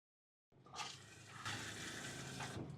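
Water rushes into a new ceramic Thetford RV toilet bowl, starting abruptly after a moment of silence and then running as a steady, soft, close splashing flow.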